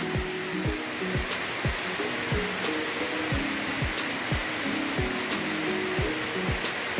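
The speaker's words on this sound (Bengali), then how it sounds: "বেশ বৃষ্টি হচ্ছে সকালবেলা" Heavy morning rain falling outdoors, a loud continuous broadband wash that stays steady throughout, with repeated low thuds and faint chirps mixed in, no speech.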